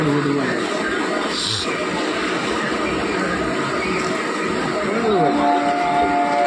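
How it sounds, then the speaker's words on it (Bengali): Rumbling noise of a local train departing a station fills the scene, a steady mechanical roar with a brief whistle-like tone, while people talk nearby over the clatter. "ট্রেন ছেড়েও দিয়েছে মনে হচ্ছে।"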